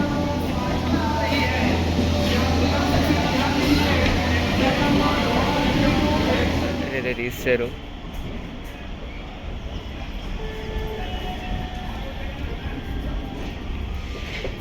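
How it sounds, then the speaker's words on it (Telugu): A Raipur–Durg MEMU train at a railway station, giving a loud, steady rumble that eases to a lower drone halfway through, with a person speaking over it. "అయితే మన రాయపూర్ దుర్గ్ మెమో వచ్చేసింది."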